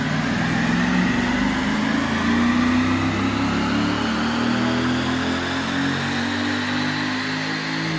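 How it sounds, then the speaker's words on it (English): A base model C6 Corvette engine is run up to redline on a rear-wheel dyno, a loud, sustained roaring rev that holds high and steady, close up with no talk. "it gets very loud when he runs it up to the red line."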